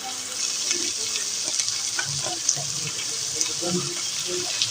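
Fenugreek leaves frying in a pot for a winter stew, a steady close hiss of sizzling oil broken by soft, scattered scraping stirs throughout.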